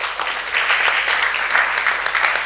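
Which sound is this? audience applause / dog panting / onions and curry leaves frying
audience applause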